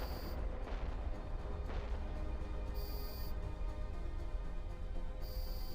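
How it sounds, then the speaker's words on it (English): Dense, continuous rumble of many simultaneous explosions in the space game EVE Online, a heavy low booming wash that stays loud and steady throughout, with a few brighter bursts near the start. "It's just too many explosions at once."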